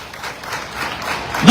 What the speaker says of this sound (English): Let's all give our schools a round of applause.